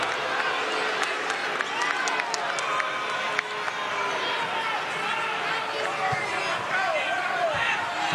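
A college basketball arena crowd at a Vanderbilt vs Kansas State NCAA game reacts to a foul with a sustained roar and clapping, while sneakers squeak and sharp court noises break through.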